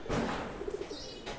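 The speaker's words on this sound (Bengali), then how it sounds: "আমি বর্তমানে আপনাদের সামনে যে কবুতরটা দেখাবো" A tournament racing pigeon's parent bird cooing nearby: a short run of soft, low pulsing coos over a faint background hiss, followed by a brief rustle.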